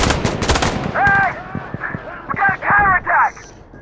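Gunfire in Insurgency Sandstorm sounds as a rapid burst of close shots at the start, then scattered single bangs, with someone speaking through much of it.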